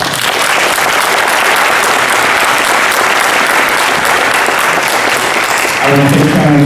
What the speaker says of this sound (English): Please give him a hand again.